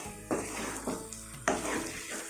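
Spoon stirring chilli egg curry in a pan after chilli sauce is poured in, three distinct scraping strokes over a soft continuous sizzle, fairly close and quiet.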